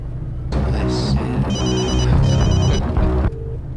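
A telephone ring-back tone purrs steadily through an outgoing call, repeating tonal bursts over a low background hum for several seconds before cutting off, with no talking.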